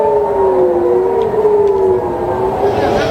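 Air raid siren wailing over Tel Aviv during a missile attack from Iran and Lebanon, a loud steady tone that sweeps slowly in pitch and holds for the whole stretch, with no voices over it.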